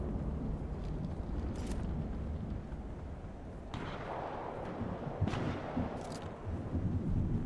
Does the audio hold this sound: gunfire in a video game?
yes